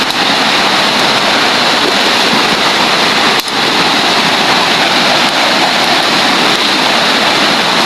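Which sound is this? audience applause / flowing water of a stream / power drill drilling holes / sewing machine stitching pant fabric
flowing water of a stream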